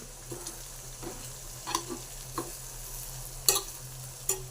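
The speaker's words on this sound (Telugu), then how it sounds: "ఇప్పుడు కొంచెం కారం, చిటికెడు పసుపు, కొంచెం ధనియాల పొడి అన్నీ వేసుకొని కలుపుకోవాలి బాగా" Potato fry curry with chili powder, turmeric and coriander powder is stirred in a pan, with soft intermittent scrapes and occasional sharper metallic clinks over a low, steady background hum.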